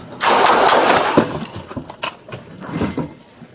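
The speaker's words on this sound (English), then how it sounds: "shots fired" Police open rapid fire inside a Safeway store, a loud dense burst of shots followed by scattered sharper cracks and clatter that fade into echoing indoor noise.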